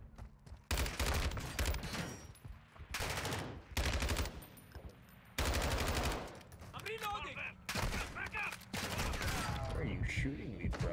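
Modern Warfare 2 gunfire in a defense game mode comes as loud bursts of automatic fire separated by short pauses, with a player talking between and over the shots.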